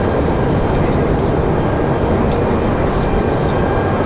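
Berry Aviation EMB 120 turboprop airplane coming in at Raleigh-Durham International Airport: a loud, steady engine roar that fills the whole stretch, with a faint voice underneath.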